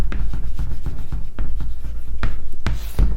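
Pen writing on paper during a Java programming lesson, a steady close scratching with repeated short strokes and taps, continuous and fairly loud, with no talk.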